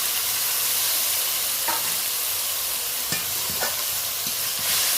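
A spatula stirs onion, green chilli and grated tomato spice paste over low heat, with steady frying sizzle throughout and several distinct scraping strokes against the pan, close and fairly loud, no voices.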